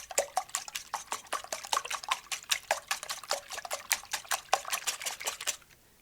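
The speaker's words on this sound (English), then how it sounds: "place the desired amount of eggs into a bowl and whisk well to combine" Eggs whisked in a bowl for a basic frittata, a rapid, steady train of sharp clicking taps from the whisk against the bowl, close and fairly loud, running without pause for about six seconds before stopping abruptly.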